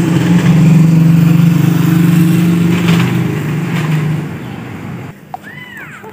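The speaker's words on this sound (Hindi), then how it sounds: "बच्चों के स्कूल बसेस का और ट्रैफिक का शोर" Street traffic with school buses passing, a loud continuous engine drone and road rumble that holds steady, then drops away sharply near the end, leaving quieter background noise.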